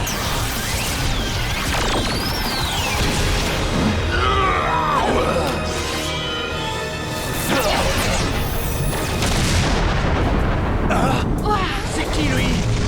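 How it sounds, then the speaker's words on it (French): Beetle cannon final attack from Power Rangers Samurai: a loud, sustained blast of crashing, whooshing energy effects with booming impacts and rising sweeps, layered under music and voices. "Canon scarabée à 5 disques."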